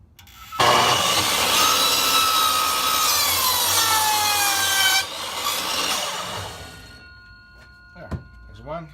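Wood ends are trimmed with a hand saw while building sawhorses, giving loud, close, rasping strokes for about four seconds, then a quieter stretch of sawing, then a few faint knocks.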